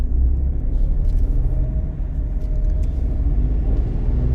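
Car engine revving during driving practice in Solan as the clutch is eased up, a loud, close, low rumbling motor with a rising hum, continuous throughout the short stretch.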